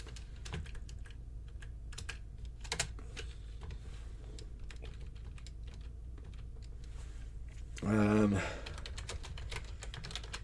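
Rapid clicky typing on a computer keyboard, close and fairly quiet, with irregular bursts of keystrokes across the whole stretch and a brief voiced sound near the end.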